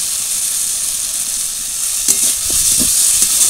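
Tomato and spices sizzle and hiss in oil in a pan, a steady close frying noise with a few soft scrapes of stirring near the end.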